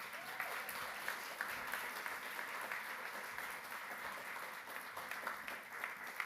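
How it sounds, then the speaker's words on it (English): Audience applause greets the guest speaker at a CreativeMornings talk in New York, a steady wash of many hands clapping, fairly faint and distant, sustained through the whole stretch. "Give a rockstar applause for Kate."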